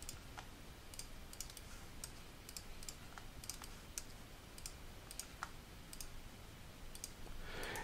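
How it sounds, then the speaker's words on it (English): Computer mouse clicking while digitally flatting a comic page, a steady series of sharp, light clicks scattered irregularly over faint background hiss, close and quiet with no talking. "Okay, now I'm just clicking and moving the mouse."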